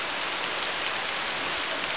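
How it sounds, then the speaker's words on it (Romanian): Steady rain shower falling in Bușteni, a dense continuous hiss of drops on surfaces with no pauses, moderately loud and even throughout. "A început să plouă."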